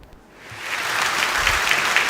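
Applause for a contestant on a Ramadan television quiz show rises quickly from near silence into a full, dense studio wash of clapping that holds steady and loud.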